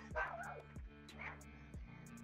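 Several short dog barks and yips, close and fairly loud, in quick succession over the background sound of an online shooter game, with other faint sounds around them.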